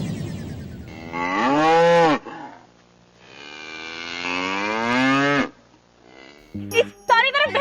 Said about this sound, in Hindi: इस सारी तरफ भैंसें क्यों है?